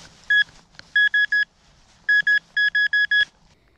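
A metal detector sounds a new signal with a series of sharp, high electronic beeps, single and in quick groups of three, loud and close over faint background noise.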